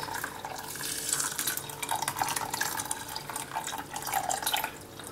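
Water runs steadily from a tap into a vessel during a raw wheat cereal mash for home brewing, a continuous soft splashing gush with faint drips, close and fairly quiet with no talking.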